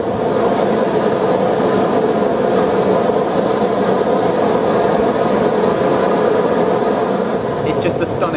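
Clan Line, a heritage steam locomotive, passes close by on a UK railway, producing a loud, dense, continuous rumble and clatter of wheels and carriages throughout.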